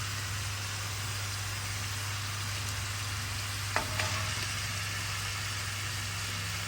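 Shrimp frying in a pan with soy sauce added, a steady even sizzle holding throughout, a single brief clatter near the middle, no talking.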